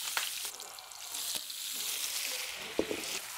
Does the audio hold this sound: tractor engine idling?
no